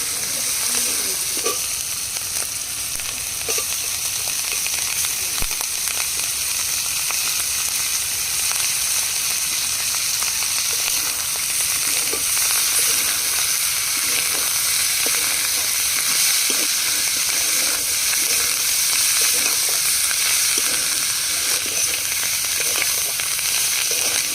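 Jodupalon greens fry in a pan with a steady, dense sizzle that runs throughout, broken by scattered scraping stirs. It sounds close and fairly loud, and no one talks.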